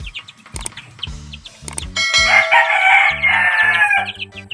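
Eight one-month-old chicks give repeated close, loud clucking and squawking calls, with a longer drawn-out crow-like cry in the middle.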